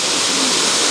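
Llanrwst waterfall in Wales, a steady, dense rush of falling water heard up close and loud, with no voices over it.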